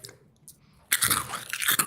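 Cheetos crunch loudly in a close mouth: a quiet pause, then a sudden burst of dense, brittle chewing that keeps going to the end.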